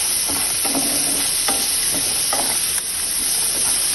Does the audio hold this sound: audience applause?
no